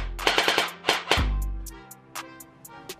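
An Unlocx gel blaster fires a rapid string of sharp, close shots, then a few more spaced snaps after a pause. The mechanism whirs and clatters underneath and there is no talking.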